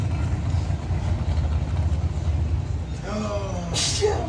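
A 1967 Chevrolet Nova SS drag car with a 632 cubic inch Chevrolet engine rumbles steadily at a drag racing event, a deep continuous engine drone with brief voices toward the end.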